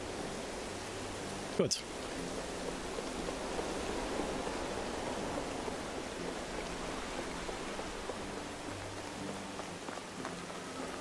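Steady rain in the medieval survival game Medieval Dynasty, an even, hissing wash of falling drops that holds throughout, with one sharp brief knock early on and someone talking briefly over it.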